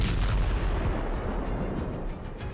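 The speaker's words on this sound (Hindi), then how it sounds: "ट्रंप के B-2 बम वर्षक तेहरान पर बंकर बस्टर बम फोड़ रहे हैं।" Bunker buster bombs exploding, a continuous low rumbling roar of blasts, loud and dense throughout with no pauses.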